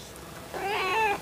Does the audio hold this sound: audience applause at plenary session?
no